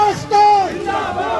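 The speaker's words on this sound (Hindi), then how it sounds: "भीड़ में मौजूद लोग भारत और तिरंगे के सम्मान में नारेबाजी करते दिखाई और सुनाई दे रहे" A crowd at a political rally in Kashmir chants slogans honouring India and the tricolour flag, with loud raised voices calling out together in a burst, then continuing more loosely.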